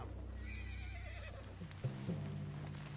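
A horse in Red Dead Redemption 2 whinnies in a wavering, quavering spooked call, followed by a few soft snorts and thuds, all fairly quiet.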